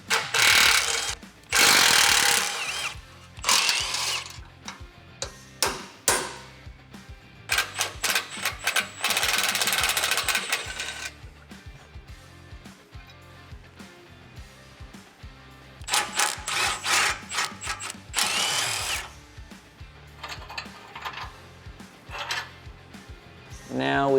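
A power tool whirs in loud, close bursts as bolts come out of a Tacoma skid plate support piece, mixed with metallic clanks and rattles between runs.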